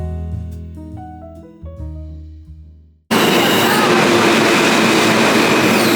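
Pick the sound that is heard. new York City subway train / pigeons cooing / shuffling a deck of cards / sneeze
new York City subway train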